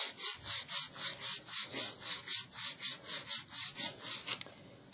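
A hand saw trims the edges off a DIY refillable inline carbon filter part, about fifteen even back-and-forth rasping strokes in a steady rhythm, close and clear with no talking, ending abruptly.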